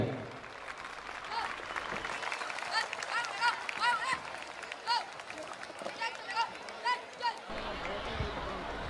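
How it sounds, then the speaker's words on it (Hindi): Crowd applause at a 2024 Republic Day ceremony, a steady spread of clapping running under a loudspeaker voice and crowd noise, with a few louder swells as the school performers are cheered. "जोरदार तालियां बजाइए।"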